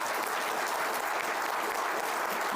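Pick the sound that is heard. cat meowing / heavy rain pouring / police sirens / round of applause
round of applause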